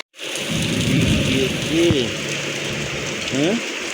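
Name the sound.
heavy rain falling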